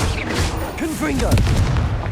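Confringo fire spell explosion in the Hogwarts Legacy video game: heavy booming blasts and rumble up close, with a voice shouting over them.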